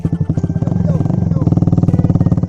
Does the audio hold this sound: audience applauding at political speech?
no